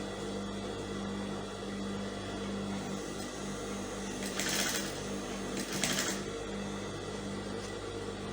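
Sewing machine running steadily while stitching the pleated flare of a floating-neckline gown with down ruffles, a close continuous mechanical whir with a couple of brief louder bursts, no talking.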